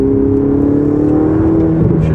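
Yellow Ferrari 488 GTB sports car engine accelerating, a steady loud rising drone with climbing pitch that holds throughout, close and without talk.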